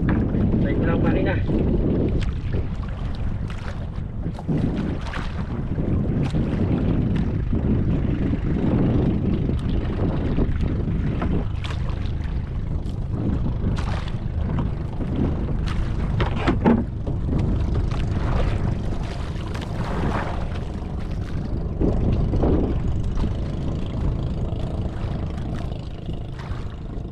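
A boat engine drones steadily under gusty wind buffeting the microphone, with voices talking now and then over the rumble.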